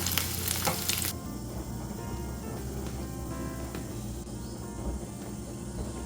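Food for a paneer curry frying in a pan, a loud crackling sizzle at first that drops to a softer, steady frying hiss, close and without speech.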